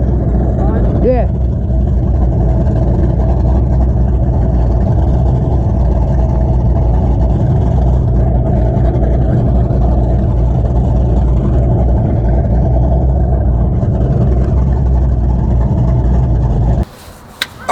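A motorboat engine drones steadily and loudly while the boat cruises past docks in a marina, a constant low rumble that runs unbroken until it cuts off near the end.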